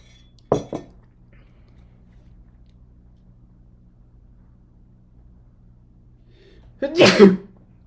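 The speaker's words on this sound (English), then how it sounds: "I just realized I sneezed towards a microphone" One person sneezes twice, a short burst early on and a louder, fuller one near the end, with quiet room tone in between.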